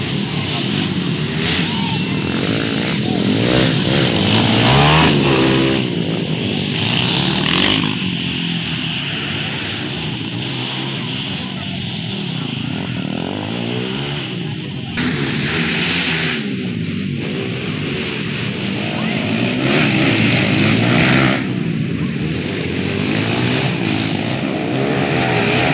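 Enduro trail motorcycles racing in a local competition, engines revving and rising and falling as bikes pass at varying distance, with crowd voices mixed underneath.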